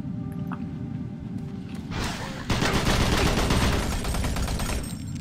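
Rapid enemy gunfire in the Doom 3 BFG Edition shooter, a dense burst of repeated shots over a low game rumble that swells louder midway and keeps pounding steadily to the end.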